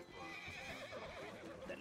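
A horse whinnies in the Western game RedM, a faint, wavering neigh with hoof clops beneath, set against quiet background murmur.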